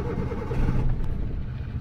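A Maruti WagonR car engine cranks and turns over in a low, rough mid-range rumble that runs steadily and close by for under two seconds, with no clear stall audible.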